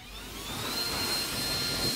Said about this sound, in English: I'm going to give the mower another blow down